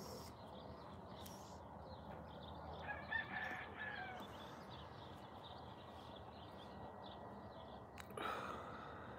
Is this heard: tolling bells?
no